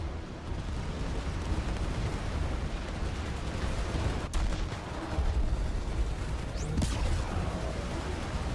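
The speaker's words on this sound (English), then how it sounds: "Let's hear those lasers." Laser weapons firing in the sci-fi RTS game Sanctuary: Shattered Sun, a dense continuous roar of blasts and impacts with a few sharper cracks standing out, loud and close.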